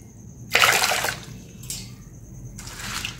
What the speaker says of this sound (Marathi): इथे मी सगळं स्वच्छ पाण्याने धुवून घेत आहे, 2-3 पाण्याने।